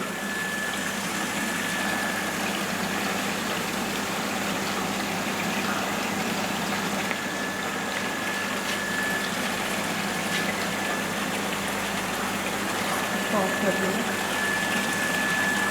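A multistage centrifugal pump test rig runs with a steady, loud mechanical drone and a faint whine while water pours into a measuring tank, holding an unchanging hum throughout.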